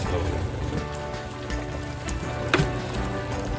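A steady, close sizzling bubble of sauce cooking in a pot for the West African dish haako, with a soft scrape or two as it is stirred slowly.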